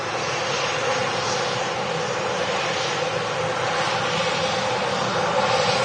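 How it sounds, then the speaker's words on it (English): An Airbus A380 taxis up to the gate, a continuous broad roar of jet engines at a steady level, filling the scene without pause and with no voices. "got the Colossus A380 taxiing up to the gate here"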